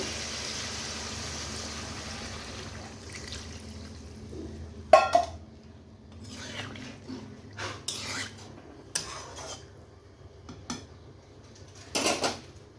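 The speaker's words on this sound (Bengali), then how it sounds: "এবার আমি জল দিয়ে দেব" Water is added to a pot of fish curry cooked with ridge gourd, heard as a soft pour followed by clinking of a utensil against the pot and a few scattered metallic knocks over a low background hum.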